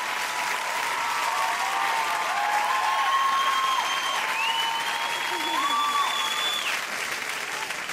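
A TV show studio audience breaks into loud, sustained applause with whistles and cheering running through it, steady for the whole stretch without fading.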